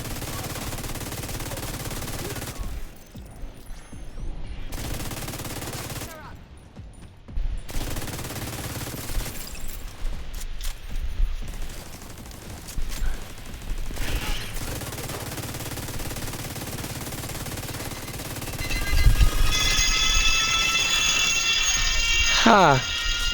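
Video game gunfire in a battle for Brooklyn, with bursts of shots and automatic fire through a busy mix, short near-silent gaps, and a bright ringing, alarm-like tone building near the end while a player talks.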